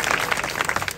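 An audience claps together at a devotional religious discourse, producing a brief burst of dense, even applause.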